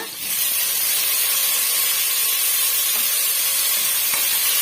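Ripe tomatoes sauté for a brinjal gravy, giving a loud, steady, close sizzling hiss from the hot pan, with a couple of faint stirring taps.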